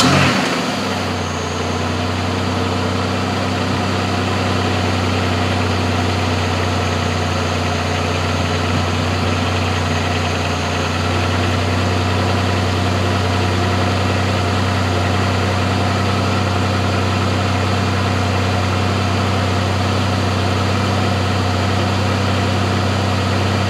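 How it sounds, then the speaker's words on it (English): Car engine fitted with a 4T65E transmission starts and settles into a steady idle in neutral, a continuous low hum with a faint whine that stays even throughout. "we're gonna fire this thing up and kind of let it just cycle through, get that cooler warm"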